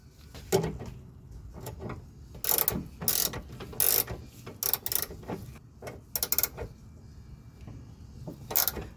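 A hand ratchet snugs down a sway bar link bolt on a Toyota Camry's rear suspension, giving short bursts of crisp, rapid clicks separated by pauses, close up and without talking.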